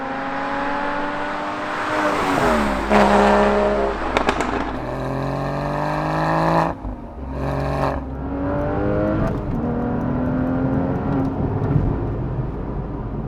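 A 2016 Porsche Cayman GTS 981 engine and exhaust revving and accelerating, with rising and falling engine tones through several gear changes, loud and close, with sharp pops between pulls.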